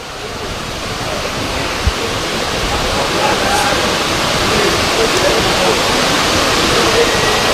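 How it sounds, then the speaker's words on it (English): Heavy rain pours steadily over an outdoor football pitch during an FA Cup match, a dense continuous hiss that holds loud and even throughout with no talk over it. "As the rain comes pouring down"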